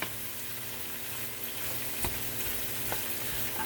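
Food browning in a hot pan on raised heat, a steady low sizzle running throughout with a couple of faint clinks, quiet and close with no talking.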